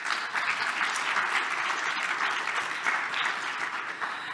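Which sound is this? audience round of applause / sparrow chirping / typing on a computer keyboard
audience round of applause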